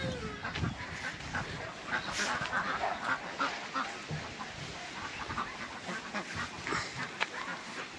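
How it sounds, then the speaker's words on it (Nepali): Parent ducks brought from Sitamarhi, India, quack and honk on a farm in a continuous, busy chorus, with people talking over and between the calls. "यो हाम्रो इन्डियाबाट लिएर आएको हाँस हो"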